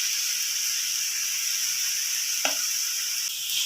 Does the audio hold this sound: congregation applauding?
no